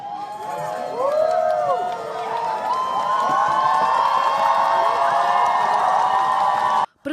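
An outdoor crowd cheers and applauds after a law is passed, a loud, sustained wash of whoops, shouts and clapping with rising and falling cries, continuing for several seconds before an abrupt cut.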